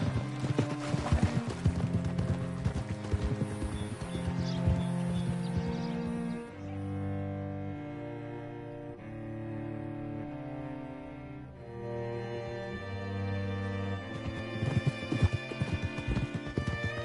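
Hooves of a ridden horse clip-clop at a steady walking rhythm, moderately close, running beneath a continuous musical score for most of the stretch.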